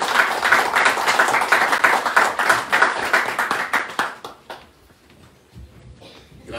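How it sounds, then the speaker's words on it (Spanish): Hands clap in quick, rhythmic bursts to welcome a speaker at a Titanes 2022 season press conference, strong and close for about four seconds before stopping abruptly into near quiet. "con un fuerte aplauso solicito que se una acá a nosotros"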